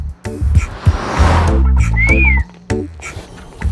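A person whistles once, a short rising and falling tone, among loud thumps and rustling beside a car. Nearby, the trunk lid rises on cue as luggage is handled.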